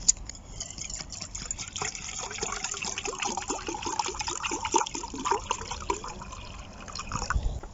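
Cold water pours into a small camping pot set on a pot stand over a mini alcohol stove, a steady close gurgling fill with trickles and splashes, no talking.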